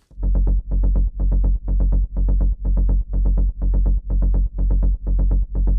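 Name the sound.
rolling synth bass of square waves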